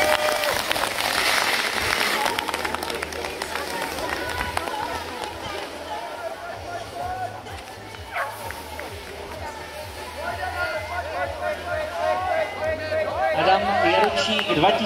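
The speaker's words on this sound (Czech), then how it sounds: "Tak ale přesto podpoříme potleskem." Spectators clap and cheer beside a children's race course, applause rising and falling with crowd chatter and a commentator talking over it throughout.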